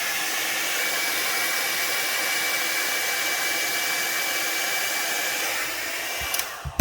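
A hair dryer blows steadily over an alcohol ink painting, a loud, close, continuous whooshing hum that clicks off near the end.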